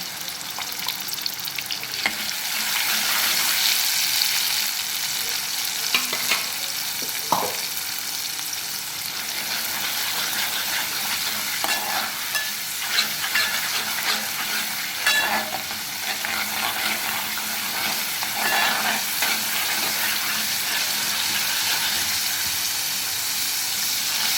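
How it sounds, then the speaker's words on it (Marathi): Green ground paste added to garlic frying in oil for a vegetable dish, a steady loud sizzle with occasional stirring scrapes and clinks, no talking. "आपला लसूण थोडा लाल झाला की लगेच आपण हे हिरवं वाटण घालून घेऊ"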